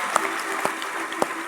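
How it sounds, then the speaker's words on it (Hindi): Audience applause at a Ram katha religious discourse, a steady patter of clapping from a seated crowd with a few sharper claps standing out, no talking. "एक बार जोरदार तालियां बजा दो"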